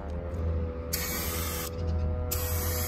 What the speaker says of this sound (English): We're spray painting the Porsche